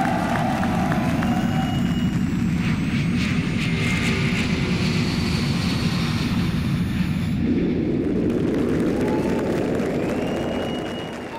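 Loud studio audience applause and cheering for Paresh and Bharti on a Comedy Circus stage, a dense roar that carries steadily for about seven seconds before easing into a softer, thinning clatter of claps.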